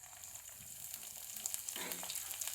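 Ground green chillies, ginger and spices hit hot mustard oil in a pan, giving a steady close sizzle that swells into a louder hiss near the end, with no talking.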